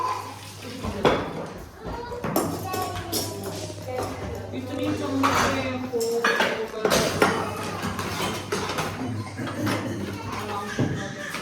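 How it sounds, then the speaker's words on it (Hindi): Glass dishes being set out and arranged in a household kitchen, giving repeated clinks and knocks at varying intervals while people talk throughout. "और इतने सारे कांच के बर्तन है ना, अभी हम ऐसे ही लगा रहे हैं।"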